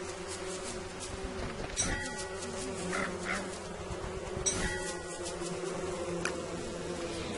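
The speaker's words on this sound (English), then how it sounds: "Get off me, bees." Steady insect buzzing of bees in the video game Don't Starve fills the whole stretch, a dense droning hum with a few brief flutters and clicks, fairly close and unbroken.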